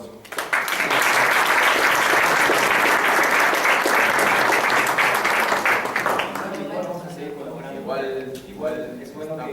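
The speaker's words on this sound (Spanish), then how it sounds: "así que por favor un aplauso" Loud, sustained audience applause at a crisis-management talk, dense steady clapping for about six seconds before fading into scattered claps while people begin talking.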